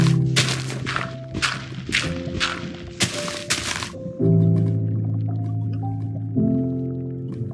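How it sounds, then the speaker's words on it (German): Water filling in the Minecraft video game: a run of short bursts of splashing and clicking gives way to a steady, loud sloshing fill that carries on alone to the end. "Wasser auffüllen."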